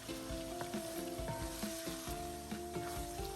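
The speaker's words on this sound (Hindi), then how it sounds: "अब हम उसमें लहसुन, अदरक और सब्ज़ मिर्च का पेस्ट डाल देंगे।" A paste of garlic, ginger and green chili sizzles and fries steadily in a hot pan while cooking bhuna gosht, with light stirring clinks over the constant hiss.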